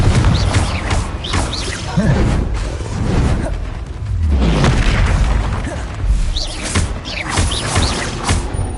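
Spell explosions in the Hogwarts Legacy video game, a string of loud booming blasts and whooshes that repeat every second or so during combat, with someone shouting spell names over them.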